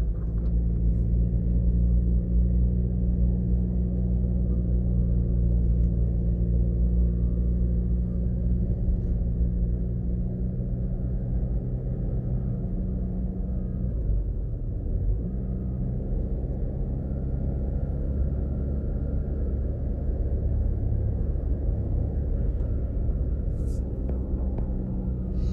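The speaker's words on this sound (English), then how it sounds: "We're now going to be driving out of Mandeville on New Green Avenue" A car driving out of Mandeville, Jamaica, on New Green Avenue, heard from inside as a steady low road rumble and engine drone that holds at an even level throughout, with no talking.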